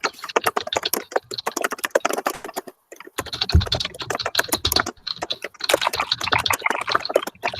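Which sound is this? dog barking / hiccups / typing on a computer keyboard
typing on a computer keyboard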